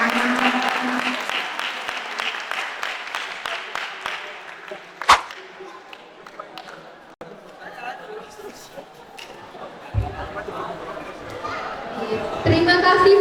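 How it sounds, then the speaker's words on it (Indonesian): An audience at an entrepreneurship discussion event claps for everyone, a burst of crisp rapid claps at the start that thins into scattered clapping and murmuring, with one sharp snap. Voices talk after it. "Oke, tepuk tangan untuk kita semua"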